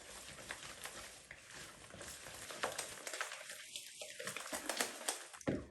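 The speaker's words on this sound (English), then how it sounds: "now it's time to mix in our egg and egg yolk" An egg and an extra egg yolk are stirred into a chewy chocolate chip cookie dough of butter and brown sugar, giving a soft, close, continuous scraping and squelching, with a brief murmur of voice partway through.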